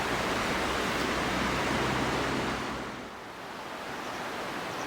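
The Aragvi River rushing past the town of Pasanauri on the Georgian Military Highway, a steady broadband roar of flowing water close by, dipping slightly partway through with some wind.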